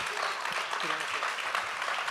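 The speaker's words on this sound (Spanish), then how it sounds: "obsequiarles un fuerte aplauso a estos par de personas extraordinarias" Audience applause for two guests at a talk event, a steady dense wash of clapping filling the whole stretch, with faint voices mixed underneath.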